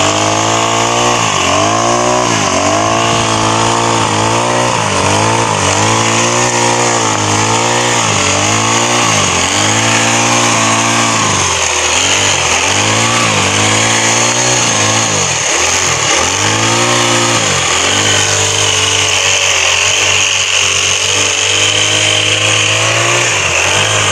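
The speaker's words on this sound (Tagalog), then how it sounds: "ginamitan po siya ng ganitong grass cutter" A grass cutter cuts weeds on a farm plot, its small engine droning loud and steady throughout, the pitch rising and falling in repeated surges as the blade bites into the growth, with no talking.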